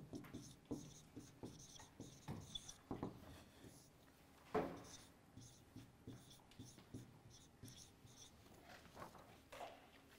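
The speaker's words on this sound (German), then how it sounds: "da schreibe ich vielleicht noch mal ganz kurz an" Chalk or marker scratches and taps on a board during a university lecture, quick short strokes in irregular bursts at moderate distance, with the lecturer speaking intermittently.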